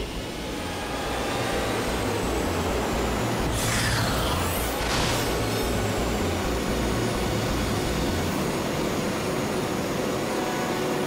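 A hoverboard nitrous boost fires in the Ratchet & Clank racing game, a loud continuous jet-like roar with a low engine drone and two quick swooping whooshes near the start, holding steady throughout.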